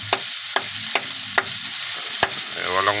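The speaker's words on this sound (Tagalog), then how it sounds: "First time kong mag-gisa na ang gamit star margarine." Something sautés in Star margarine in a pan, a low sizzle punctuated by five sharp spatula knocks or scrapes spaced irregularly, ending in a brief squeaky tonal rasp.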